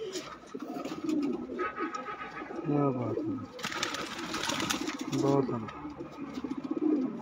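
Domestic pigeons kept by a Punjabi pigeon fancier give repeated soft, throaty coos close by, while someone talks over them.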